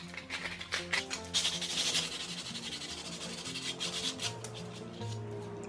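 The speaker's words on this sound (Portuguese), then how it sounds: "Agora nós vamos dar acabamento aqui, ó, com lixa, né? Tirar as rebarbas, ó." Sandpaper rubbing the cut edges of a 25 mm plastic tube, a steady close rasping scrape with rhythmic strokes continuing throughout.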